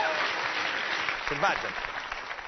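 A TV studio audience applauds for a guest on an Italian comedy show, a steady dense wash of clapping throughout, with someone speaking briefly over it near the middle.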